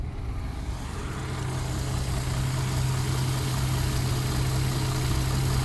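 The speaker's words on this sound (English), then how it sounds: "Pretty smooth for a straight 6 engine" A classic car's straight-six engine idles steadily and smoothly, a constant low hum close by with no talk.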